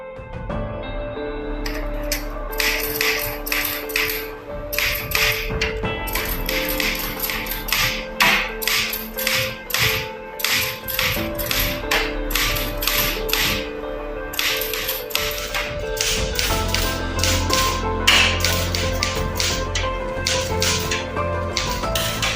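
Keys of a typewriter clack in fast, uneven bursts as proclamation text is typed, with sharp close strikes, short pauses between runs and a low musical backdrop underneath.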